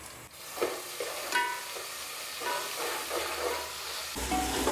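Browned golden onions frying with ginger garlic paste make a soft, steady sizzle and hiss, with several stirring scrapes and a louder burst of sizzling near the end, fairly quiet and with no talk.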